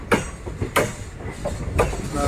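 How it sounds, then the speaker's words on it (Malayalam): Train wheels clatter over points as the train changes from one track to another, loud rhythmic clicks and thumps spaced about every half second over a constant rolling rumble. "ട്രെയിൻ ആദ്യം ഒരു ട്രാക്ക് മാറി വീണ്ടും അവിടുന്ന് വേറൊരു ട്രാക്കും കൂടെ മാറുവാന്ന്"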